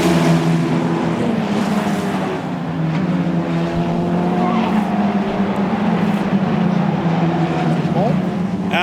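Formula Regional race cars battling on a circuit, with engines droning steadily at a distance and pitch sweeping as they pass, under continuous commentary.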